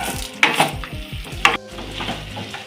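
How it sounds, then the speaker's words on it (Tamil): A spatula scrapes and stirs through sizzling banana stem in a frying pan, with steady frying crackle and a couple of sharper clinks. "எல்லாத்தையும் நல்லா மிக்ஸ் பண்ணிக்கலாம்"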